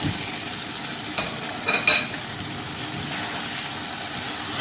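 Fried kebabs tossed into thickening gravy in a pan and stirred, a steady close sizzle with a couple of brief wet scraping clatters from the stirring.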